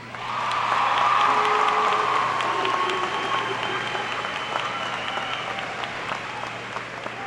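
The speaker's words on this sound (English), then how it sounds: "so let's give us a round of applause" Audience at a 2016 high school graduation ceremony bursts into loud, sustained applause mixed with a few whistles. The clapping fills the hall for the full seven seconds, fading only slightly toward the end.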